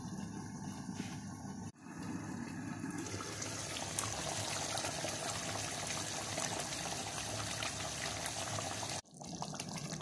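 Egg masala with green chilies simmers under a closed lid, making a faint, continuous sizzling and bubbling hiss with brief breaks near the start and end.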